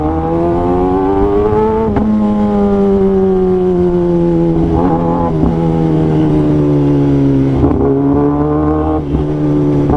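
Royal Enfield Bullet and Kawasaki ZX10R motorcycles racing on an Indian road, engines loud and close, with steady high revving and pitch shifts as they accelerate and change gears for ten seconds.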